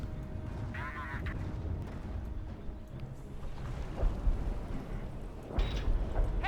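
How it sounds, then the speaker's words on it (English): Artillery fire in the World War II strategy game Company of Heroes, played on a river map with a bridge, comes through as a steady low rumble with a few heavier thuds near the end, set among battle noise and a brief tonal game sound. "More artillery."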